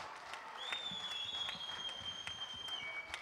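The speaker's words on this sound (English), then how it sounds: "Big applause, a big applause." An audience at an indoor youth baseball tournament applauds in a steady, moderately distant wash of clapping, while a whistle-like tone drifts above it.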